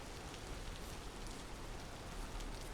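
Rain in the video game Vintage Story makes a steady, soft hiss of drops falling evenly on surfaces, faint and unbroken, with no voices.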